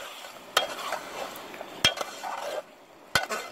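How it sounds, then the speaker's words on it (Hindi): Chicken and tomatoes stirred in a pan, three distinct metal spoon clinks against the pan spaced about a second apart over a soft, low sizzle. "अब हम इसको हिलाएंगे, हिलाने के बाद इसको पकने के लिए छोड़ देंगे"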